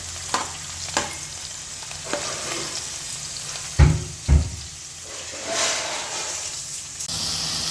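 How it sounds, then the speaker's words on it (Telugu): Bitter gourd frying in oil on a medium flame, a soft steady sizzle broken by a few scrapes and knocks of stirring, close by. "ఇట్లా ఫ్రై చేసుకోవాలి ఇలా ఫిఫ్టీ పర్సెంట్ వేగనివ్వాలి మిడిల్ ఫ్లేమ్లో వేగనివ్వాలి ఇలా వేయించుకోవాలి"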